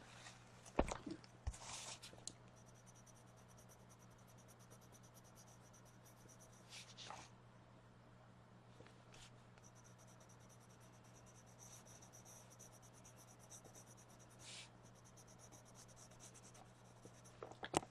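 A lavender colored pencil scratches softly and steadily across paper while coloring a book illustration, quiet and close, with a few sharper strokes and page or pencil handling.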